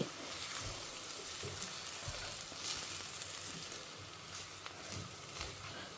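Snake gourd sautéing in a pan with ground spice powder, a steady soft sizzle and crackle running throughout with occasional low stirring bumps, close but fairly quiet and alone without voices.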